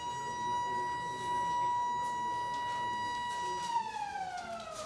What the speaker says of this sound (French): Derrière, la sirène retentit.